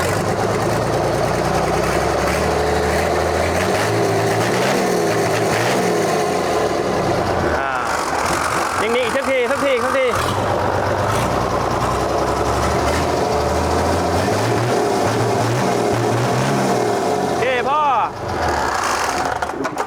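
A used Hino H07D 195-horsepower truck engine idles with a steady, rattling diesel drone, then is revved hard twice, rising in a loud surge and falling back, while someone talks over it.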